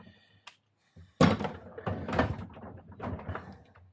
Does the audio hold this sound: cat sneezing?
no